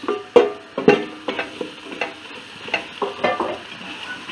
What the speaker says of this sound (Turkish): Ve biraz da böyle kavuracağım.